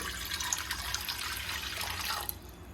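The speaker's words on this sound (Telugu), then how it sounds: "ఇప్పుడు వాటర్ పోసి" Water pours steadily into a pressure cooker on the stove, a bright splashing stream close by that runs for about two seconds before easing off.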